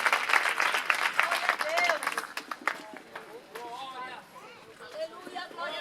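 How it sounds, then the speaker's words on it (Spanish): A church congregation claps and cheers in a lively burst that fades while a preacher's voice carries over it, the applause dense at first then thinning under continued talking. "Dale un fuerte aplauso."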